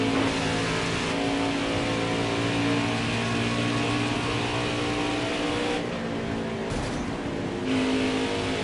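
Racing truck engines at Las Vegas Motor Speedway during a Craftsman Truck Series race drone loudly and continuously, with sustained revving tones that shift in pitch as the trucks run at speed.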